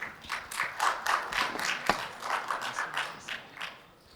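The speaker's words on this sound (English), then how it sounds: "A round of applause for our panelists." A small audience claps for the panelists at the close of a panel discussion on neglected tropical diseases in Africa, a loose scattering of individual hand claps at moderate volume that thins out toward the end.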